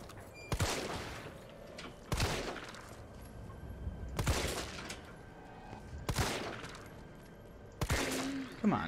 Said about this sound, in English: Use the pistol on that.